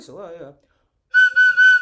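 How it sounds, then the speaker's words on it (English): Someone speaks briefly, then after a pause a toy whistle is blown three times in quick, loud, shrill blasts close to the microphone. "Oh, it is a whistle."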